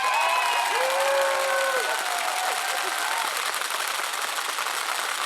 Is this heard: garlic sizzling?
no